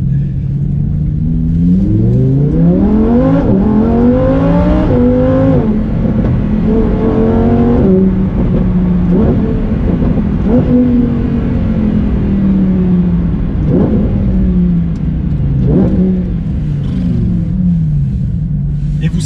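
A Lamborghini with all-wheel drive revs loud and close, its engine note climbing and falling repeatedly as it brakes hard into a hairpin with the rear sliding, a constant heavy in-cabin rumble throughout.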